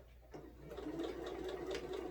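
A sewing machine runs steadily while stitching a quilted placemat, its motor whirring at a quick, even pace after a brief quiet start, close and moderately loud with no talk.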